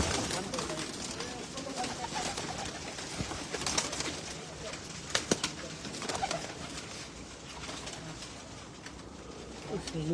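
Pigeons coo on a rooftop in Karachi, soft repeated cooing mixed with wing flutters and outdoor bustle, while someone talks over them.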